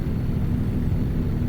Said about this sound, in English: You get to listen to that turbo kick in and out